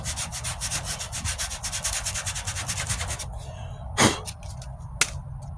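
Rapid rhythmic back-and-forth strokes sand body filler on the wheel arch of a 1998 Ford Ranger, steady and close for about three seconds, then stopping, with a couple of sharp knocks afterward.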